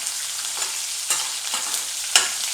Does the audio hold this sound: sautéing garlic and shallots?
yes